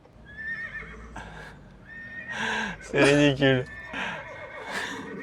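Horse whinnying loudly several times at an outdoor gathering, with people talking and crowd noise around it.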